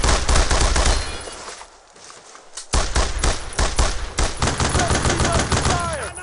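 Gunfire in the World War II video game Brothers in Arms: Road to Hill 30, with loud, rapid bursts of rifle and machine-gun shots, a brief lull, then more sharp repeated cracks, with shouting voices mixed in.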